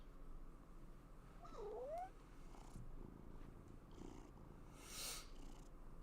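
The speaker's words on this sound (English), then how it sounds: "that purring noise is at least cute" A soft, steady cat purr in Life is Strange: Double Exposure rumbles at low level, with a brief chirpy meow-like call partway through and faint background ambience.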